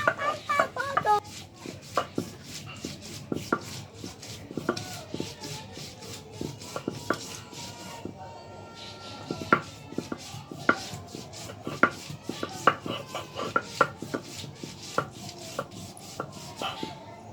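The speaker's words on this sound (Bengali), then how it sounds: "তাই আদা বাটা করে নিতেছি।" Ginger is ground into a paste by hand with a steady run of sharp, rhythmic strokes and rubs, repeated many times at close range in an otherwise quiet room.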